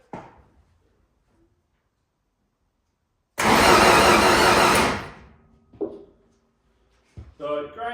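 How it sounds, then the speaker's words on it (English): A Ford Escort Mk2 fitted with a Zetec engine turns over on the starter in one steady burst lasting about a second and a half, close and loud. A voice is heard before and after. "So I'm just going to crank it over now to show you it cranking"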